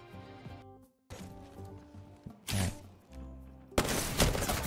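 Gunfire in Apex Legends, heard as bursts of shots and impacts broken up by short silences and game music tones, with a loud dense volley toward the end.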